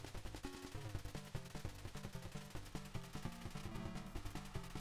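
A steady, rhythmic run of shots from an SMG firing at a helicopter in the MSX video game Metal Gear, faint and mixed with looping chiptune-style tones.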